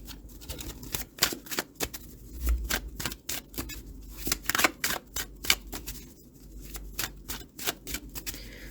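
Tarot cards are shuffled and pulled in a steady run of quick, crisp riffling snaps and slaps, close and fairly loud, with a few short pauses between bursts and no talking.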